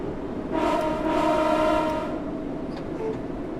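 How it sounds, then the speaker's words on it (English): A modded train horn in the Train Sim World 2 video game sounds a long, steady chord-like blast of about one and a half seconds, then fades under continuous rumbling rail noise. "I love the horn."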